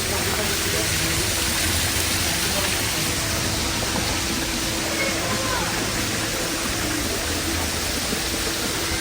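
Water rushes steadily beneath a wooden bridge near Empress Falls, a dense, even hiss that fills the whole stretch, close and loud, without talk.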